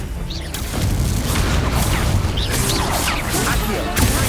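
Confringo fire spell bursting in the Hogwarts Legacy video game, a booming blast with rumbling crackle amid ongoing combat effects, loud and sustained for several seconds.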